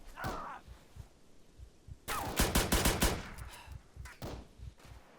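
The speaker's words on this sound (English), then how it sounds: "I don't even know where I'm being shot from." Gunfire in the game Arma 3 DayZ Breaking Point: a dense burst of rapid, loud shots around the middle, with scattered fainter reports before and after, heard alone.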